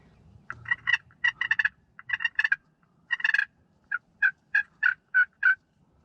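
Wild turkey jakes gobble in rapid rattling bursts, several calls in quick succession, close and clear against a quiet outdoor background during a spring turkey hunt.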